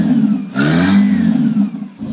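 Toyota 1.8-litre four-cylinder engine fitted in a soft-top Humvee revs up sharply from idle, holds a loud, close, sustained rev for over a second, then drops back toward idle.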